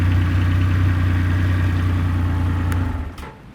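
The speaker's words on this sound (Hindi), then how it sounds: "यहाँ पे आप इसको प्रेस करके रखेंगे तो ये बाइक स्टार्ट हो जाती है।" A Triumph Rocket 3 motorcycle's big triple engine idles with a loud, steady low rumble close to the microphone, cutting off near the end of the clip.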